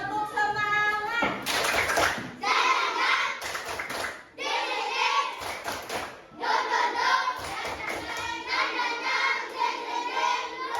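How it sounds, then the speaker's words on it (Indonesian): Schoolchildren in an Indonesian classroom do a rhythmic spirit clap, with bursts of patterned hand claps mixed with their chanting voices, loud and close throughout. "Sebelum mulai, tepuk semangat."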